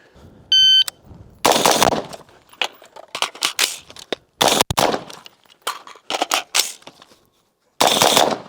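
A Daniel Defense rifle fires at a target in loud sharp reports, a quick string of shots with a short pause midway and a final burst, preceded by a timer beep.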